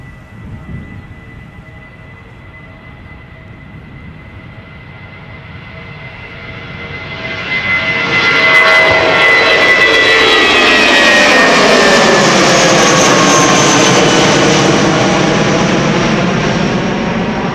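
An airliner jet departs Amsterdam Schiphol Airport, its engines a distant hum that swells into a loud, sustained roar as it passes close by, then holds steady at full power.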